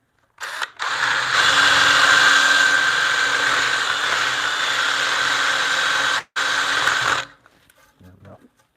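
A drill bores into a wooden bunk bed rail with a Forstner bit while cutting out a mortise in a home workshop, a loud steady motor whine running for several seconds, briefly stopping once, then quieting to faint sounds.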